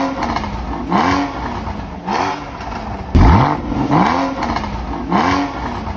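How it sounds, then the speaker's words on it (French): A Porsche Boxster S (981) flat-six fitted with a PSE sport exhaust revs in a series of about five sharp throttle blips, each rising and falling quickly over a steady idle, loud and close. "maintenant on laisse chauffer la voiture et on se retrouve tout de suite après pour écouter le Flat 6 Rageur"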